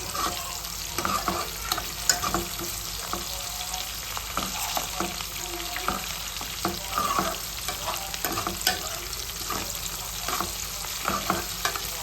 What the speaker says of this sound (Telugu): ఉల్లిపాయలు జీలకర్ర పోపు పచ్చిమిరపకాయలు ఒక టమాటా అయితే వేసాను